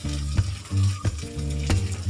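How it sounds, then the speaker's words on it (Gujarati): Carrots, capsicum and other vegetables for spring rolls sauté in a pan. Three sharp stirring scrapes cut through the steady sizzle, close up and with no voices. "સરસ એને સાતરવા દેવું"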